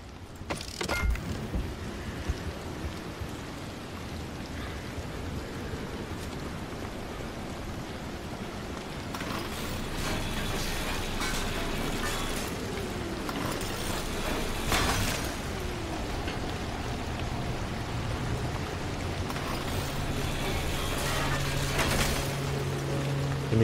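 Rain falls in the video game Pacific Drive as a steady, soft wash of patter on a car, with scattered brief clatters and a louder spell in the second half.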